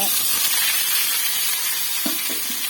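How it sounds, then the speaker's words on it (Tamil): Curry leaves and small shallots sizzle in hot oil with popped mustard seeds in a pan, a steady loud hiss with brief crackling bursts. "கடுகு பொரிஞ்சதும் கருவேப்பிலையும் சின்ன வெங்காயம் போட்டுக்கோங்க"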